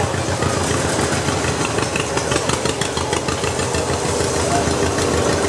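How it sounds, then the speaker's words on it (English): A 1959 John Deere 830 diesel pulling tractor runs loud and steady at a parade, its rough mid-pitched engine rumble close and continuous with a faint knocking beat. "We have a very popular pulling tractor here. It's the John Deere 830 diesel. It's a 1959."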